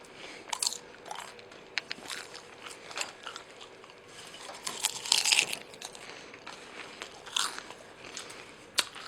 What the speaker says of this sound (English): How do you like that ASMR popcorn noise?